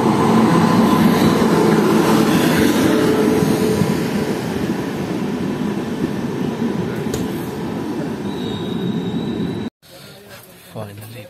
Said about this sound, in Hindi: फाइनली ट्रेन आ चुकी है।